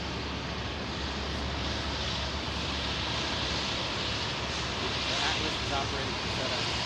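Constant broad roar of a FedEx MD-11 aircraft pushing back on an airport apron in Anchorage, steady and moderately distant, with no clear talking.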